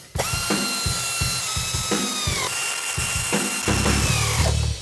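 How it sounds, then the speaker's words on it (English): A ratchet tightens bolts that join two Flowmaster mufflers in a garage, clicking in rapid rhythmic bursts of ratcheting, close and loud, with a faint metallic ringing behind the strokes. "bolt these two together in the center"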